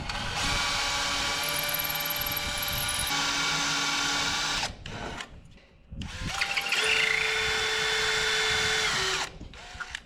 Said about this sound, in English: Bought a cheapo set of Craftsman drill bits.